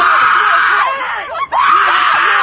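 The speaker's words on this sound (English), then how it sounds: "Listen to him screaming." A man screams loudly and continuously in street footage of a scuffle, a harsh strained cry with a brief break before resuming.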